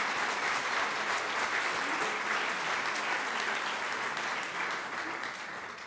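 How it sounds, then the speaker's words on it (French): A room full of people applauds at a talk, dense continuous clapping that stays loud and even before easing off slightly toward the end. "on peut vous applaudir"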